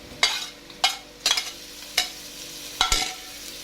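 Garlic added to golden onions frying for pasta, a background sizzle broken by five or six sharp scraping stirs of a utensil against the pan at irregular intervals, no voices.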